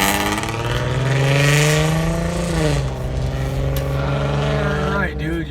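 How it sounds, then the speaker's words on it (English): Inside a moving car, a rough, loud exhaust drones steadily and rises and falls in pitch as the engine revs, with a brief dip near the end. "your exhaust sounds like ass"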